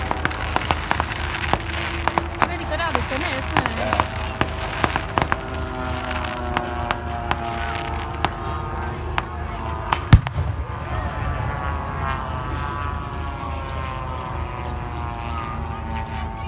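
Pyrotechnic barrage at an air show, simulating anti-aircraft fire: dense, irregular crackling bangs and sharp pops burst continuously over a roaring background, loud and close, with voices faintly underneath.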